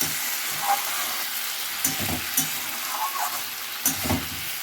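Cauliflower, potato and peas frying hard with masala in a kadai, a dense, loud continuous sizzle with periodic scraping stirs and spatula knocks close by.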